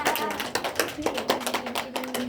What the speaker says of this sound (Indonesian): Beri tepuk tangan kepada Balita.